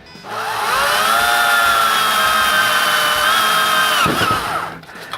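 A power drill bores through a planetary rover chassis part, its steady high motor whine running loud and close for about four seconds before it spins down, with no talking.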